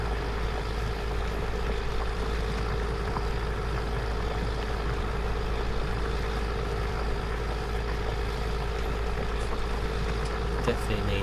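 A steady, droning Steyr CVT tractor engine in Farming Simulator 19 runs continuously at an even pitch, loud and close, with no other sounds standing out.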